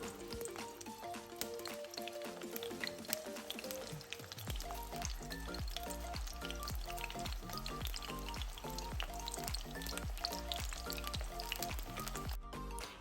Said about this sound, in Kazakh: Келесі кезекте баялдыны өсімдік майына қуырамыз.